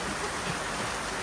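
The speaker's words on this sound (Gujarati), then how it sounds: "તમે વરસાદ જોઈ શકતા છો મારા વાલા બાકી તો કાંઈ નવીનમાં નથી વરસાદ અત્યારે શરૂ છે" Steady rain falls during a fair, a dense even hiss of drops on surfaces that fills the moment without a break.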